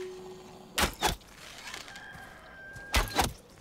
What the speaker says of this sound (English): I heard a chicken again